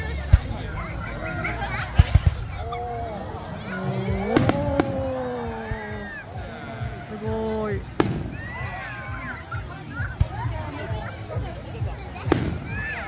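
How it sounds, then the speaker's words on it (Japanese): A summer fireworks display at Blumen Hill in Shiga Prefecture, Japan: sharp bangs and crackles of varying loudness, some near and some distant, under steady crowd chatter and nearby talking. "さあ、花火が始まりました。"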